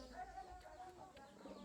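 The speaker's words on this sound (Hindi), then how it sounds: "पिजन्स, इतने सारे कबूतर।" Pigeons cooing around an old house, heard as soft low repeated coos against a steady murmur of background noise.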